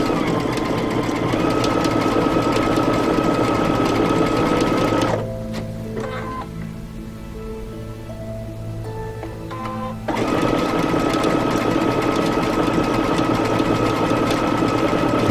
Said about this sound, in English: I can zoom in here and sew this for you.